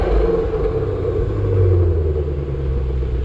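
Steady, loud, deep exhaust rumble from a 2020 Ford Shelby GT500 Mustang, droning evenly and close without any clear revs.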